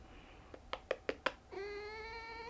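A cat meows loudly and close by, a few short clicks and taps before it, ending in one long, drawn-out meow that holds steady to the end.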